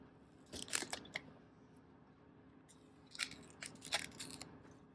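Protective plastic film peeled off a new iPhone SE 3rd generation (2022), heard as two bursts of crisp crackling and tearing against quiet room noise, close and moderately loud.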